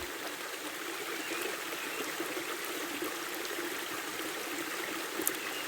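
Steady flowing water trickles and streams continuously at a soft, even level, with no voices over the gentle wash of drops.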